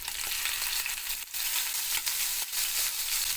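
Ginger garlic paste sizzles and fries steadily in hot oil while cooking chicken, with a dense, continuous hiss and a few brief dips as it is stirred.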